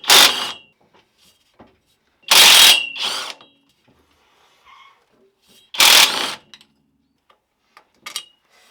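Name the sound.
specialty tool on bolts of a Land Rover Discovery 1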